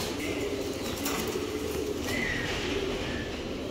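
Wild birds, probably pigeons or doves, kept loose near a road, with soft cooing and a brief flutter over steady outdoor background noise, no speech.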